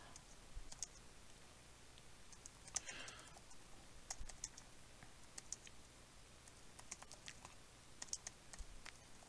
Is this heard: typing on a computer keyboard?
yes